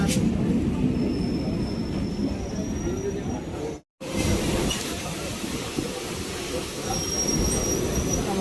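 A local train at Sonarpur railway station in the evening rumbles steadily, with a thin, high wheel squeal running across the sound. The noise cuts out briefly for an instant midway, then resumes.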